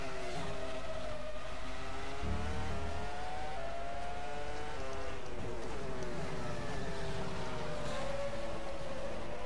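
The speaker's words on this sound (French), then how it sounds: "On va écouter le bruit du moteur." A race car engine in a racing video game drones steadily throughout, onboard view, its pitch rising and falling with gear changes, loud and continuous with no voices.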